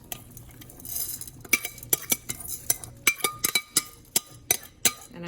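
Dry cracked wheat (bulgur) tipped into a pot of sautéed vermicelli noodles, giving a run of sharp metallic clinks and scrapes against the pot, close and clear, with a faint sizzle beneath and no talking.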